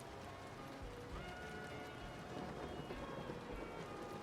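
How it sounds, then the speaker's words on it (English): Rain sound effect played during a manga reaction stream, a steady broadband hiss of falling rain with soft low rumbles, moderately quiet and continuous with no talking. "Can you guys hear the rain?"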